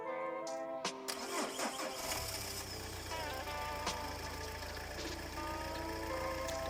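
A 1990s-2000s PSA car engine cranking on the starter motor: a whirring starter grind with rhythmic pulses catches into a steady running drone, close and continuous, with no talk.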